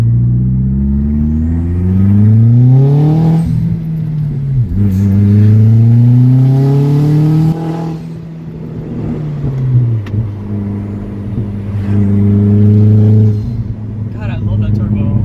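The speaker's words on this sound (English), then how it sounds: "God, I love that turbo." Turbocharged car engine revving and accelerating from inside the cabin, rising harmonic sweeps climbing repeatedly between gear changes, loud and close, with people talking over it.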